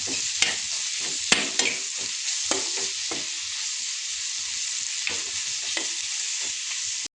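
Egg masala is stirred in a frying pan after red chili powder is added, with a steady close sizzle broken by repeated scraping strokes of the spoon.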